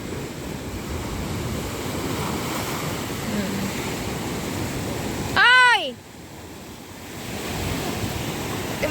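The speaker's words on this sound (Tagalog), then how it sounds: "Ang lakas ng alon, diba?" Steady roar of strong surf and wind on a rocky shore at Mauban, Quezon, Philippines, with a brief loud whistle-like burst in the middle before the waves continue.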